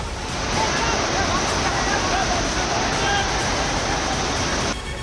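Flood water rushes through a street in Manipur, a loud, unbroken roar of churning water that fills the whole scene, with faint voices mixed into the din.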